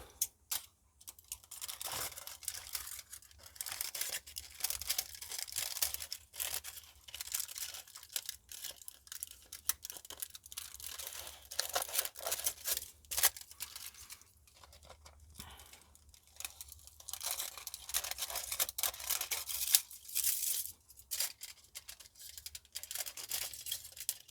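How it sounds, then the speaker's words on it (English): Scissors or snips trimming the excess thin metal from a homemade metal dish for a WiFi extender, with steady close crinkling, snipping and tearing that rises and falls in bursts throughout and no talking. "Now you can just go and cut off the excess."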